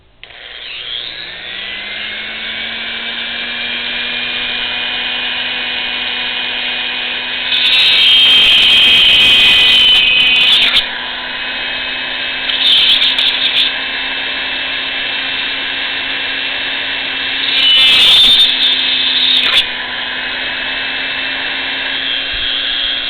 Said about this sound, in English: I've had it on the lowest setting of the hand drill, of the mini drill.